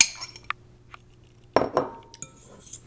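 Egg mixture being added to cheese in a bowl brings a few sharp glass and utensil clinks and scrapes, close and fairly quiet, with a louder cluster in the middle.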